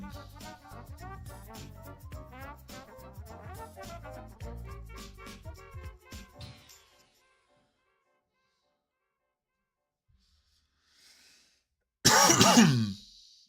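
A single person gives a short, loud cough or throat clear near the end, after a stretch of quieter sound and silence.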